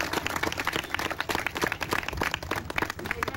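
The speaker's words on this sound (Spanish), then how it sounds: "Marco Bonifacio, a quien le recibimos con un fuerte aplauso, por favor, en esta mañana." Applause from a crowd at a morning public event welcoming a guest, a dense rapid patter of many hands clapping at moderate loudness throughout, heard alone without speech.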